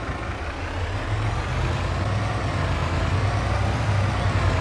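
Lorry truck pulling a load in a farming simulator game, a steady low engine drone with a slowly rising, continuous rumble throughout, no speech.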